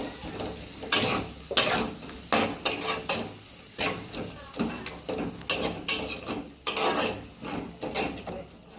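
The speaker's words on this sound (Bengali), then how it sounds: "এবারে ভালো করে নেড়ে চেড়ে নিতে হবে।" Spoon or spatula scraping and knocking through spice paste in a pan for katla fish dopiaza, a steady run of close, irregular clatters and scrapes with no one talking.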